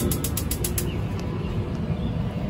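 A propane grill's electric push-start igniter button being pressed, giving a fast burst of sharp ticking clicks in the first second, then a continuous loud rushing background.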